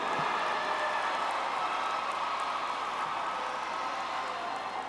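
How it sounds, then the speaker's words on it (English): High school graduation ceremony audience on its feet giving a sustained round of applause, a dense, even wash of many hands clapping that fills the hall for the whole stretch. "stand and give them a round of applause"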